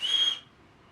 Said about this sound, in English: Oh, and this one came with a whistle.